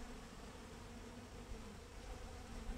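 Caucasian honeybees buzz in a dense, continuous drone close by, a steady hum of many wings with no voices.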